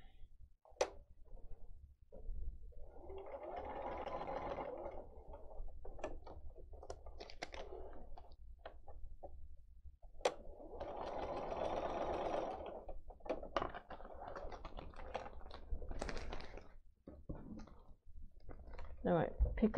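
A sewing machine stitches quilt border pieces for a star border in short bursts of rapid mechanical clicking, two longer runs separated by pauses with scattered handling clicks, fairly quiet, with a person talking in between.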